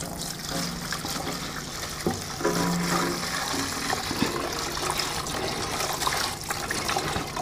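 Leftover petrol poured from a Royal Enfield Classic 350 motorcycle fuel tank into a tray, a steady splashing trickle of liquid running continuously at close range with no talking.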